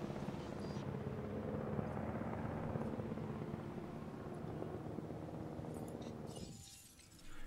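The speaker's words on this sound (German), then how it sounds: "Dann schlage ich vor, wir schicken Helikopter." A helicopter in the video game Jurassic World: Evolution keeps up a steady rotor thrum and engine drone, which fades toward the end before a brief glassy clink.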